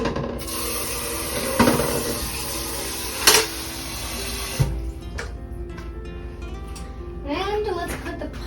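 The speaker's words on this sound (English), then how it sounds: "So let's add some water to the pot." Tap water runs into a cooking pot in a kitchen, a steady close rushing stream with a few knocks, then quieter splashing and gurgling toward the end.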